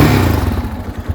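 Old motorcycle engine cranking and catching, a loud close rumbling clatter that sputters and thumps unevenly over about a second.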